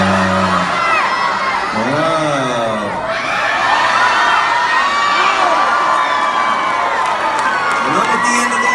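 A concert crowd yells and cheers at a spinning prize wheel during a show, a loud, dense roar of voices and whoops that swells and holds throughout.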